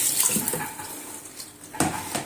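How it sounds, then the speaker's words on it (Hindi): Water is poured into a pot of lentils, giving a short splashing stream that fades, then a second brief burst of pouring. "हम इसमें थोड़ा सा पानी डालेंगे"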